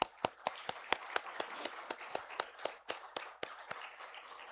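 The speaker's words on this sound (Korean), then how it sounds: "우리 장로님 권사님의 귀한 딸 결혼하는데 미리 축하의 박수 하겠습니다" Church congregation clapping during a Korean Sunday morning service to congratulate a family on a daughter's wedding, heard as fairly sparse, evenly paced claps that stay faint and steady with no talk over them.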